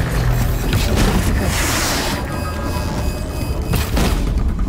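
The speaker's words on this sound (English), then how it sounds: "I'm gonna try and shoot out the power core" In the video game Horizon Zero Dawn, a machine's power core is shot out, giving heavy booming blasts and rumbling explosive crashes that fill the whole stretch, loud and close.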